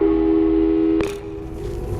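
Repeated busy-signal tone from a phone call in the video game Portal 2, a steady beeping that plays loud and alone before cutting off with a click.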